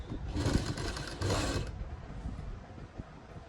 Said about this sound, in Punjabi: ਇੱਥੇ ਪਲਟ ਕੇ ਆਪਾਂ ਸਲਾਈ ਲਾ ਲਾਂਗੇ